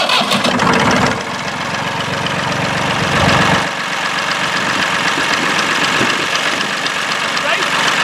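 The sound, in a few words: Massey Ferguson 133 tractor engine starting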